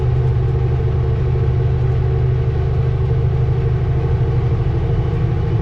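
A truck engine held at full throttle makes a loud, steady low rumble close by, unbroken for the whole stretch with no letup.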